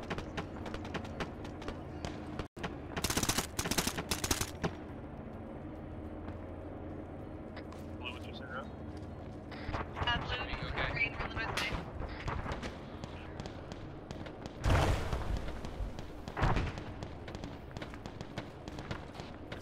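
Gunfire in the military shooter game Arma 3, sharp cracks and bursts of rifle shots, some close and loud, others more distant, scattered irregularly over an ambient outdoor background, with occasional brief talk.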